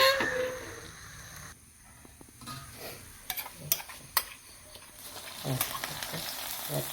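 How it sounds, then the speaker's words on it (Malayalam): Curry leaves frying in hot coconut oil, a steady close sizzle with sharp crackles and pops that flare up near the end, no talking. "അതിലേക്ക് 1 ടേബിൾ സ്പൂണ് വെളിച്ചെണ്ണ, പിന്നെ കറിവേപ്പില ഇടാം"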